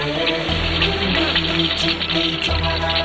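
Water rushes steadily through a Himalayan water-powered grain mill, a constant close gush with a low mechanical hum beneath it, while someone talks over it.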